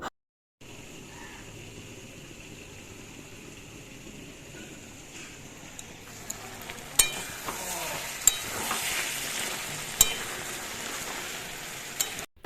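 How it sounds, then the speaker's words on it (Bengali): Mixed vegetables, fried earlier, are stirred and sautéed with spices in a pan for veg dal, giving a steady low sizzle that grows louder halfway through, with a few sharp clicks and scrapes of the spatula and no talking. "সমস্ত সবজিগুলো আগে ভেজে নিয়েছি তারপর মশলা দিয়ে একসাথে কষিয়ে নিচ্ছি"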